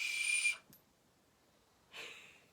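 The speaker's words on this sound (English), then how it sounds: "it's a train whistle, and it's like an actual, what they would have used for a train whistle" An actual old train whistle gives a loud, shrill blast about half a second long, then a short pause, then a second, softer breathy blow, close up.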